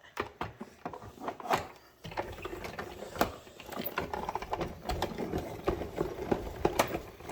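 A craft machine runs a glitter adhesive sheet through with a Merry Christmas saying on it, producing close, uneven mechanical clicking and whirring, in bursts of ticks and motor hum with a short pause early on.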